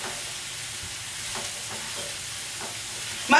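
Mushrooms and garlic sizzle steadily in a hot pan as they are stirred, with a constant frying hiss and a few soft scrapes of the utensil, no voices.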